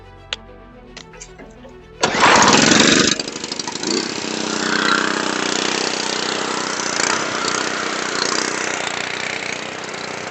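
A mid-pitched tractor engine driving a rotavator starts abruptly and then runs steadily with a continuous mechanical drone, loud and close, with no talking.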